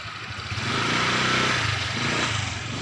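Motorcycle engines idle nearby in a steady, throbbing putter that swells slightly midway, with no talking.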